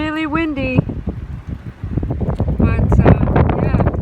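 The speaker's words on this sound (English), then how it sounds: "It's really windy" Strong wind buffets the microphone outdoors beside a campfire, heavy low rumbling gusts building toward the end, while a voice talks briefly at the start.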